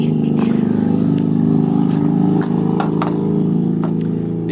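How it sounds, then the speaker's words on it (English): A motorbike passes outside during work removing horns from a buffalo skull, a loud continuous engine drone with a steady low rumble lasting several seconds, accompanied by scattered light clicks and knocks. "Motorbike here."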